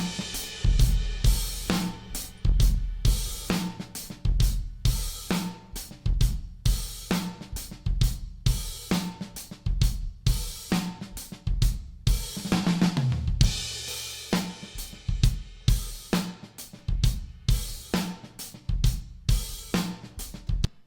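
A drum groove runs through an Inward Connections Brute II limiter, crunchy and distorted, heavily pumping with dense, punchy hits repeating steadily and loudly throughout, with no voices.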